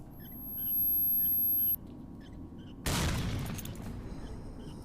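A grenade goes off in STALKER: Shadow of Chernobyl, a sudden loud burst that fades into a rumbling tail after a sustained high ringing tone and a stretch of quieter game ambience.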